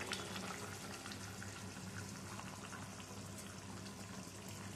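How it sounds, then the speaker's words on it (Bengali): Fish and potato with pointed gourd curry boiling in a pot, a soft, steady bubbling and simmering hiss that carries evenly through the whole stretch with no voices. "ঝোলটা ফুটতে শুরু করেছে, এবারে ঢাকাটা তুলে নিচ্ছি"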